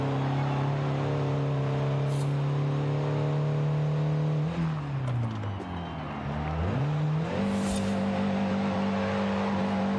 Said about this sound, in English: Bounce it off the rev limiter